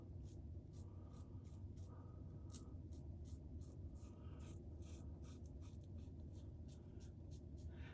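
A razor fitted with a Personna Platinum Chrome blade scrapes through whiskers in a quick series of short, close strokes, each a crisp rasping pass, with no voices.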